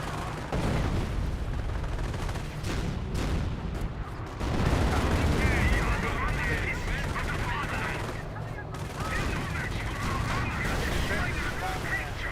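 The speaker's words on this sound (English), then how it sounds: "That's a lot of explosions." World War II battle in the Company of Heroes strategy game: dense overlapping gunfire, machine-gun bursts and booming explosions rolling on continuously at steady loudness, with a commentator's voice faintly woven through the din.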